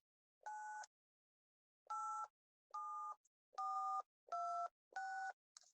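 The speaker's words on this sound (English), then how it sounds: "those are DTMF tones" A radio plays a series of DTMF telephone dialing tones, seven short clean dual-pitch beeps in an irregular rhythm separated by silence, clear and alone.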